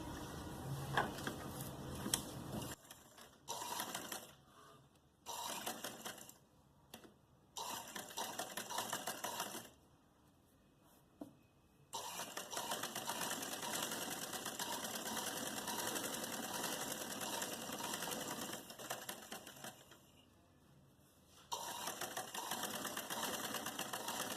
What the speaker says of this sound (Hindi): यहाँ से हम अपनी फिटिंग की सिलाई जो है इस तरीके से शुरू करेंगे